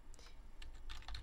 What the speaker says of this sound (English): here's where you'll type your email address